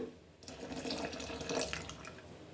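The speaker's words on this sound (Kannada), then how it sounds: "ಮಿಕ್ಸಿ ತೊಳೆದಿರೋದೀವಲ್ಲ, ಆ ನೀರು ಹಾಕ್ಕೊಂಬಿಡೋಣ." Water from rinsing a mixer jar pours steadily into dosa batter, a continuous splashing, gurgling stream after a brief quiet start, close and fairly loud.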